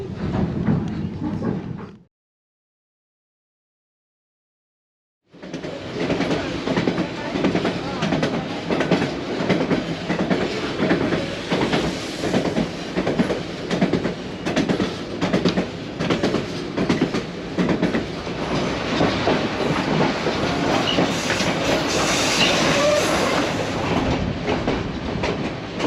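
A White Pass train rolls along the tracks with a steady rhythmic clickety-clack and rumbling wagons, loud and continuous after a brief silence at the start.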